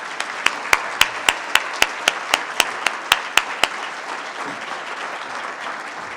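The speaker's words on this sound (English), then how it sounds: "Let's give all of our recipients another round of applause." Audience applause at a National Philanthropy Day ceremony for award recipients, a sustained wash of clapping from a crowd with a few sharp, loud nearby claps punctuating the first half before fading.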